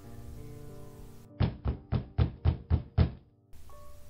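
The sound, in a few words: knock on a door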